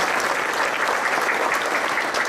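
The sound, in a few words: audience applause for award staff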